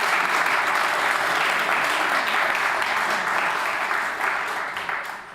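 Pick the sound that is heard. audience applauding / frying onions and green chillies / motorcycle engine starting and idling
audience applauding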